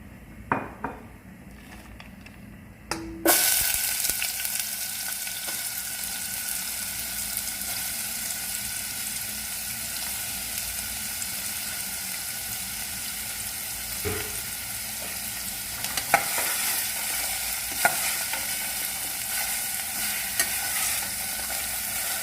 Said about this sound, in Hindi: गाजर को फ्राई कर लेंगे, थोड़ा सा घी और डालेंगे।